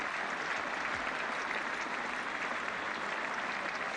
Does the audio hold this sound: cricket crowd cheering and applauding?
yes